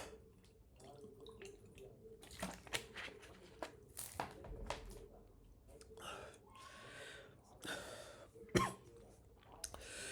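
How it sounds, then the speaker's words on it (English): A person coughs and clears their throat in a few short bursts, close and fairly quiet, with small dripping or water sounds scattered between them. "I am just coughing"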